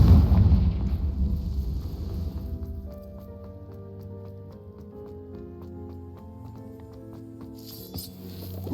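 A Confringo blasting spell goes off in Hogwarts Legacy with a loud, close, rumbling blast that quickly fades. A low sustained tonal hum then lingers quietly before a brief bright burst near the end.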